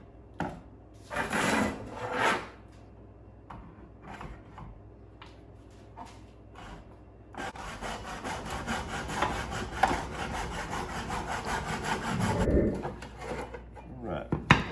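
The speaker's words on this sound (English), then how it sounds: "I'm going to use the hacksaw and this jig here to make sure that I'm cutting a straight line." A hacksaw guided by a jig cuts through a trailer spacer clip: a few short strokes, then a long run of steady, close rasping back-and-forth sawing that rises near the end.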